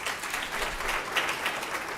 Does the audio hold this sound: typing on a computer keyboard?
no